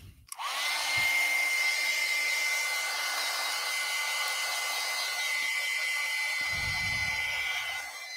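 Handheld hair dryer blowing over a wet mixed media mermaid painting, starting abruptly and running as a steady, loud whooshing hum nearly without pause, with a faint low thump or two underneath.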